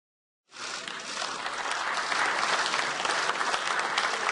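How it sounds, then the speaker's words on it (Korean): Lawmakers of the People Power Party standing in a meeting hall and applauding their party leadership, sustained applause from many hands that rises quickly after a silent start and holds steady, fairly loud and close. "국민의힘 지도부가 회의장에 들어서자 의원들이 모두 일어나 박수를 칩니다."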